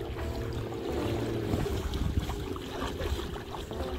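A motorized T-500 kayak thruster runs in reverse, churning and aerating bubbles in the water, a close, steady low motor hum with gurgling, sloshing water over the whole stretch.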